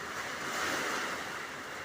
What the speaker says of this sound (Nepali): भयङ्कर पानी र भयङ्कर हावाहुरी चलेको अवस्था सिर्जना भएको छ